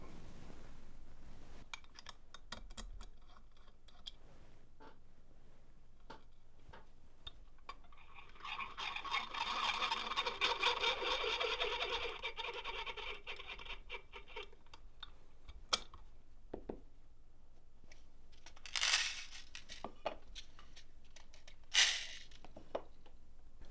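Trim Pro case trimmer cutting Hornady 6.5 Creedmoor brass, a whirring, grinding burst in the middle lasting several seconds, framed by small clicks and handling taps of cases, close and without speech.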